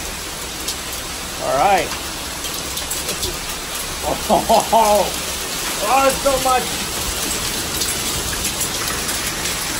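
Heavy rain mixed with hail pours down in Townsend, Tennessee as a steady, dense hiss that fills the whole clip, with a few short spoken remarks rising over it.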